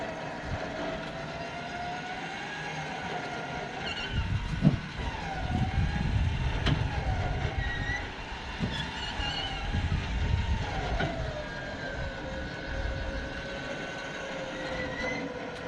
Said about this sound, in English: That winch doesn't sound too good. I probably should have charged the battery.